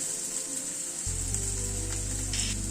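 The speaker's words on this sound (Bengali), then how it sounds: "দুটো কাঁচা লঙ্কা কুচি দিয়ে দিলাম আদার কাঁচা লঙ্কাটাকে হালকা করে ভেজে নিচ্ছি" Chopped ginger and green chilli fry in a pan with potatoes, giving a steady soft sizzle over a low background hum.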